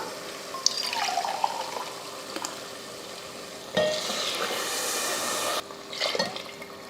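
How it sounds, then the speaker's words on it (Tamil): Mutton stock is poured into a biryani pot in a home kitchen, giving soft splashing and sizzling bursts that stop and restart, faint and close with no voices. "மட்டன் வேக வச்ச தண்ணி ரெண்டு கப் ஊற்றியாச்சு"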